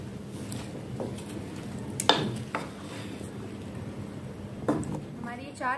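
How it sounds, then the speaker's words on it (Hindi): Chana papri chaat ingredients are mixed in a bowl with a spoon. Soft squishy stirring is broken by a few sharp clinks and scrapes of metal against the bowl, with faint speech in the background. "अच्छे से इसको मिक्स कर लेंगे।"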